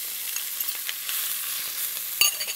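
Salt pork frying in a pan, a steady soft sizzle with a few scattered pops and crackles throughout, close up with no voices.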